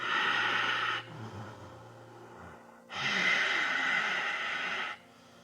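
Ujjayi breathing in an Ashtanga yoga session: two long, audible ocean-like breaths close to the microphone, separated by a quieter pause, with no talking.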